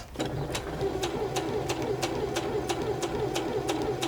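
A sewing machine stitches fabric around a corner, its needle tapping in a quick, even rhythm of about three strokes per second over a soft motor hum.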